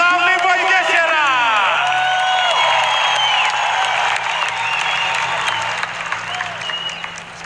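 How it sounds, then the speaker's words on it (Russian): A large arena crowd at a kickboxing event in Luzhniki, Moscow, applauds and cheers loudly, a dense roar of clapping and whoops that slowly thins, with an announcer's voice over it. "Ваши аплодисменты. Поддержим, Лужники."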